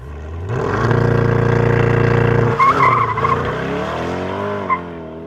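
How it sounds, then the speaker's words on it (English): A 2020 Chevrolet Corvette Stingray V8 with the optional performance exhaust roars loudly, holding a deep steady drone before the revs rise and fall, with a brief tire chirp. "The V8 is really what makes the Corvette a Corvette, and you want to hear it."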